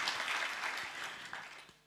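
Brief applause from a conference audience at an AIDS conference opening session in Sweden, a short burst of scattered clapping that fades toward the end.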